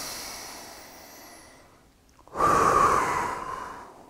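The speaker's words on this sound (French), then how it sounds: "Grande respiration." A deep breath drawn in suddenly after a near-silent pause, loud and close, a rushing inhale that then eases off slowly, with a faint high hiss before it.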